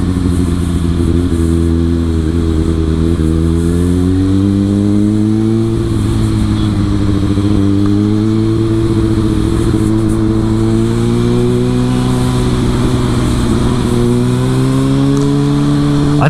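A Kawasaki Ninja ZX6R supersport motorcycle rides steadily, its engine note loud and close, rising and falling through gear changes with a continuous droning hum for the whole stretch.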